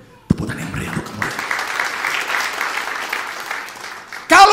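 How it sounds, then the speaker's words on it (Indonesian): A church congregation bursts into loud, dense applause during a sermon. The clapping swells quickly after a sharp start and holds steady for several seconds before a louder burst at the end. "Tepuk tangan yang meriah untuk kamu."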